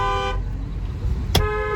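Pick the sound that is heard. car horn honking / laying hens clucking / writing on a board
car horn honking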